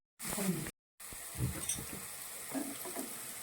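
Onions and turmeric powder sautéing in a pan give a steady close sizzle with soft scraping stir noises, broken by a brief gap of silence near the start.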